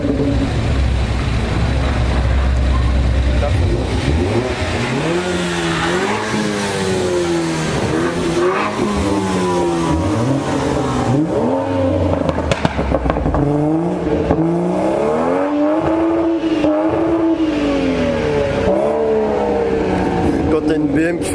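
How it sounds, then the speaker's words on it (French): A BMW engine revs hard and loud during a supercar tour through Haspengouw, its rising and falling pitch sweeps repeating in bursts, close by, with people talking over it throughout. "T'as une BM qui fait plus de bruit qu'une Mustang"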